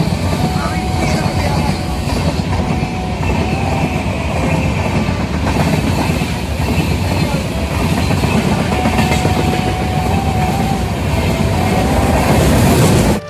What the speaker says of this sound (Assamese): পিছফালে একেবাৰে মানে আমাৰ ওচৰ ট্ৰেইনখন পালেহি